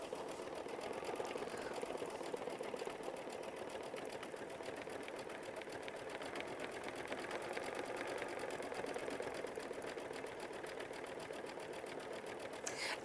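A sewing machine runs a decorative stitch on quilt block fabric, giving a soft, even, continuous mechanical whir with fine rapid ticking throughout, fairly quiet and close.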